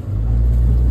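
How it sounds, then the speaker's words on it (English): A Ram 5500 sling truck's 6.7L Cummins diesel holds a steady, loud low rumble close by, sounding alone for about a second with no talk. "So I got my old sling truck, my Ram 5500."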